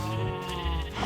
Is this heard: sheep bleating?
yes